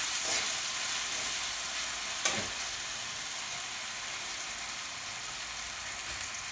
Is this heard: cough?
no